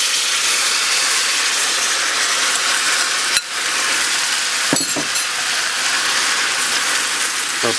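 Marinated pork belly sizzling in hot caramelized brown sugar in a pan, giving a loud, steady broadband hiss with a brief dip partway through and a few sharper crackles afterward.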